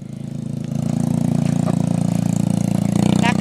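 A motorcycle engine chugs steadily nearby on a rough track of large rocks, a rough low throb that rises slightly as it keeps running, with no talking.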